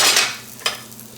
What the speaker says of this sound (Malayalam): ഇതിൻ്റെ പച്ചമണം മാറുന്ന വരെ ഒന്ന് വഴച്ചെടുക്കാം കേട്ടോ